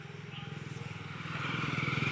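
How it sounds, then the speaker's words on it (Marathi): A motorcycle passes on a village road among tiled-roof houses in the Konkan at dusk. It is a faint, pulsing engine putter that grows steadily louder as it approaches. "आणि अशा रस्त्याला गाड्या जात आहेत"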